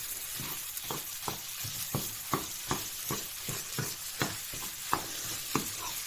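Pork stir-fries with red curry paste under a steady sizzle, punctuated by a regular series of sharp spatula scrapes against the pan, about two per second.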